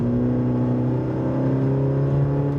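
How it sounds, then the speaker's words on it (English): A 2020 Cadillac CT4-V turbocharged four-cylinder engine drones steadily and loud, a rough, growling tone under light acceleration, with no voices. "it is not easy to make a 4-cylinder turbocharged engine sound good"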